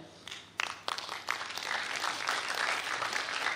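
An audience at a ceremony breaks into applause, starting with a few separate claps and then swelling into steady, sustained clapping from a crowd at moderate distance.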